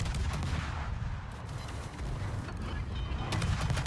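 Naval gunfire from the destroyer Khabarovsk during a World of Warships clan battle, heard as a continuous low, rumbling barrage of booming shots with mechanical creaks, steady and loud throughout.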